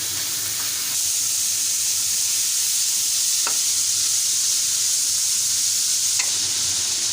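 Sliced onions sizzling in hot oil in a pan for an okra and onion dish, a loud, steady frying hiss that continues throughout with a few faint stirring clicks.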